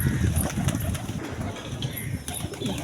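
Pigeons move about near a coop, with soft cooing, rustling and wing flaps over a busy low background, moderately close.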